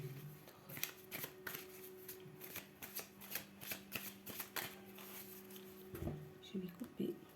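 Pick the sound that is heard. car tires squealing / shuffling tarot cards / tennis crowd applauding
shuffling tarot cards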